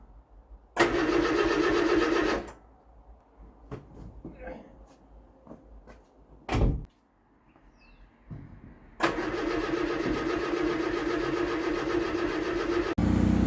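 A 1975 Vauxhall Viva HC, abandoned for 30 years and running on worn points, cranks with its starter in a loud burst that stops. After a pause of clicks and a short noise, it cranks again and catches into a steady running engine.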